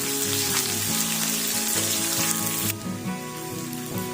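Ginger, garlic and onion sizzling in hot oil in a pan while cooking rava kichadi, a steady crackling fry that continues throughout, with the texture dropping slightly partway through; nobody speaks.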